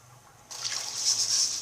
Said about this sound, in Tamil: 2 கப் தண்ணி ஊற்றிட்டோம்.